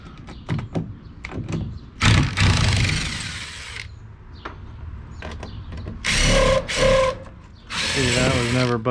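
A power drill backs screws out of back porch boards in several short bursts of whirring and ratcheting, with clicks and handling noises between runs.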